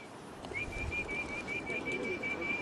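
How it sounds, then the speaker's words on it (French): Pigeons in old Beijing give a soft, steady call over a continuous outdoor background, with a faint thin whistle-like tone running through most of the moment. "le pigeon."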